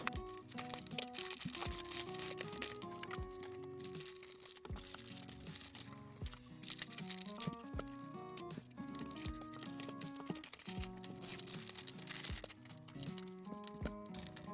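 A US military MRE ration packed in clear plastic foil is pulled open with continuous crinkling and crackling. Short tearing and rustling bursts rise over the general rustle throughout, fairly quiet and close.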